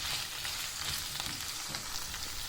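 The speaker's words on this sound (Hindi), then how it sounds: "सबसे पहले हम सब्जियों को हल्का सा फ्राई करेंगे।" Vegetables fry lightly in cooking oil in a kadhai for chicken jalfrezi, a steady close hiss of sizzling running unbroken throughout with no voices.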